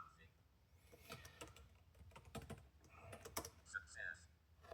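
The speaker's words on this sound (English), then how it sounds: "Please type something." Keys tapped on a computer keyboard in a short, uneven burst of clicks, faint and somewhat distant, with soft background noise and a brief electronic chirp near the end.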